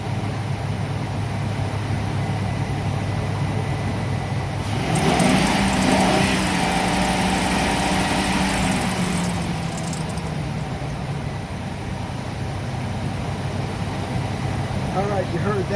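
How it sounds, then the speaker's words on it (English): Ford E350 V10 motorhome engine, suspected of a faulty idler or belt tensioner, is revved from a quiet idle into a sustained rising roar for several seconds, then settles back to idle, heard close up with no talk. "Watch when I rev it."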